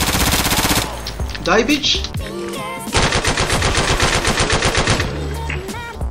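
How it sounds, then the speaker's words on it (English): Sustained machine gun bursts rattle loud and close in the online shooter Insurgency during a PvP push match, rapid repeated shots running through most of the clip, with a player shouting over the gunfire. "Machine gun there. They are shooting."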